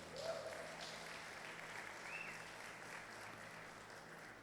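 A congregation applauds during a Thursday church service, steady clapping heard faint and distant throughout, with a low background hum beneath it.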